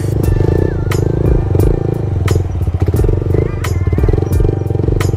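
Motorcycle engine running loud and steady through a foot-plant wheelie practice for a Ralph Louie circle wheelie, the bike near stalling, with low rumble and occasional thumps and clatters over about five seconds.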